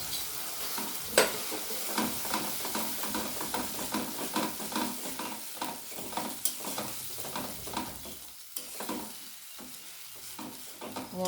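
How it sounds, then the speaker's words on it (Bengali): Whole spices frying in oil with two spoons of beaten sour yogurt stirred in for begun bahar, an eggplant dish; a steady, close sizzle with scraping stir strokes runs throughout, no talking. "মশলাগুলো আমার বেশ সুন্দরভাবে ভাজা হয়ে গেছে।"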